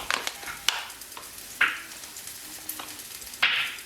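Oil, garlic and onion frying in a pan for a Sri Lankan meal, a steady soft sizzle broken by several sharp clatters and scrapes of stirring, close and moderately loud with no voices.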